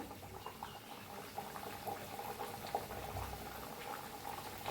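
Pumpkin fritters deep-frying in a pan of oil give a steady, close bubbling sizzle with small crackles throughout, and no one speaks.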